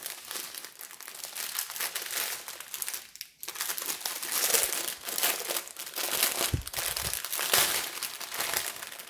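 Plastic bags of round diamond painting drills being torn open and handled, giving a close, continuous crinkling and crumpling with brief pauses.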